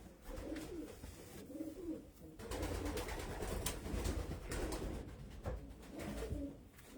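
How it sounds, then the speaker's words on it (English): Racing pigeons of Van Rijn and Van Loon lines coo in a loft, a soft rolling burbling repeated throughout, fairly close, with some rustling and background noise. "This is typical that type of pigeon."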